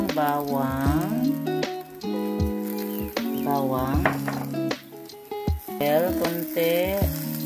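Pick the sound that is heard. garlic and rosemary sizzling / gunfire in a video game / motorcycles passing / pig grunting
garlic and rosemary sizzling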